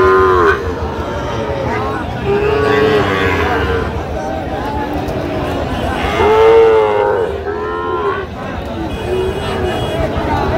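Cattle at a Munshiganj livestock market, including Sahiwal bulls, lowing repeatedly in long, loud moos amid a busy crowd, with people talking nearby over the animals.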